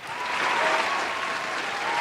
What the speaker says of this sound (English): Keep this applause going for the best crew in the world.